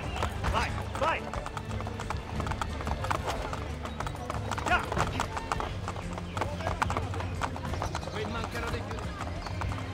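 Rapid clip-clop of horse hooves galloping in Assassin's Creed Brotherhood, loud and continuous, with a brief whinny and game effects and voices mixed over the rhythm.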